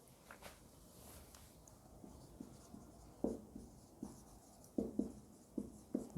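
Marker or chalk strokes on a lecture-room board come in short, scratchy taps and squeaks, irregular and fairly close, in an otherwise quiet room.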